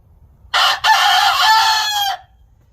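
A rooster crows loudly and close in a farm coop in cold weather, one long cock-a-doodle-doo lasting about a second and a half with a brief break near its start, over a quiet low background.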